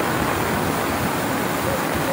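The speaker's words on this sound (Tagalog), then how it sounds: "Sobrang lakas nung nanggaling sa may St. James na tubig." Strong floodwater rushes from the St. James area through a broken riprap wall toward a river, a steady, loud, dense roar of churning water filling the whole stretch without pause.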